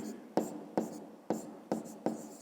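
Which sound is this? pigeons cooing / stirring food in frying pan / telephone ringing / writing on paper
writing on paper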